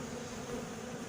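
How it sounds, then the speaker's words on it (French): Bees hum continuously from an opened horizontal beehive holding large clusters of bees, a steady close-up buzz that stays level throughout with no voices. "encore des grosses grappes d'abeilles"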